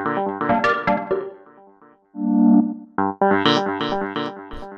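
Short, bright electronic chords in a deep minimal micro house style play in clipped rhythmic stabs, with a sustained pad in the middle, clear and alone with no other sounds.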